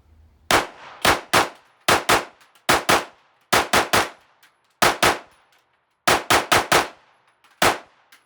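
An Apollo 11 firearm firing rounds from a Prodigy magazine, producing sharp, loud, close shots in rapid bursts of two to four with short pauses between groups.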